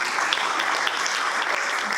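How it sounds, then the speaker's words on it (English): At an SPR Coalition annual community meeting, an audience gives a committee chair a steady round of applause, dense, even clapping that fills the whole moment without speech. "Let's give John an applause"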